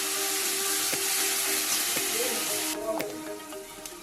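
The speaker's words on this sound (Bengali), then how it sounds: "এখন দেব পেঁয়াজ বাটা। পেঁয়াজটা আমি একটু লাল লাল করে ভেজে নেব।" Onion paste fries in a pan for a vegetarian egg curry, a loud steady sizzling hiss that drops to a softer crackle partway through, with a few light clinks of stirring.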